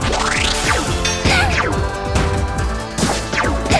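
Crystals shattering in the platformer video game Freedom Planet, loud crashing game effects layered over busy music and swooping sound effects, several impacts in quick succession.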